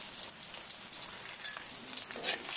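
Garlic sizzles and fries steadily in a hot pan for squid adobo, a continuous crackling hiss with small pops, close and alone, no talking.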